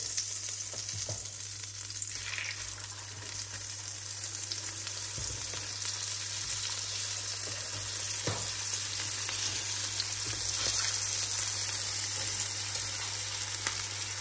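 Chicken breast with apples frying in a pan, a continuous close crackle and sizzle that holds steady from start to finish with no voices.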